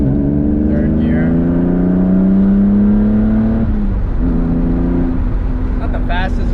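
A straight-piped BMW E36 M3 engine revs up hard while driving, pitch climbing steadily through a long pull, dropping at a shift near the fourth second and then pulling again, loud and close from inside the car.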